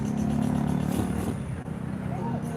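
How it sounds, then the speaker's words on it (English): Heavy trucks carrying Tet trees rumble steadily past at close range in Vietnam, a low engine drone filling the scene, with a voice talking faintly over the traffic. "There's a lot of trucks going past here"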